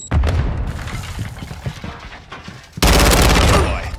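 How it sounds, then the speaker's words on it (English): A grenade blast and bursts of rapid gunfire in a first-person shooter, the loud explosion landing near the end after a stretch of scattered close shots. "Grenade!"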